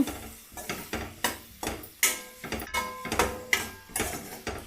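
Spices being stirred into vegetable fried rice in a pan, with a spoon scraping and tossing in a steady rhythm of about a dozen sharp strokes at close range, no talk.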